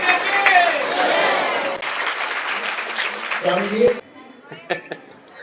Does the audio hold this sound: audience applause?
yes